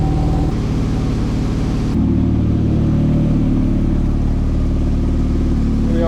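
A Porsche 997 911 Turbo engine pulling in first gear, a steady low rumbling drone that thickens and grows slightly louder partway through, no talking.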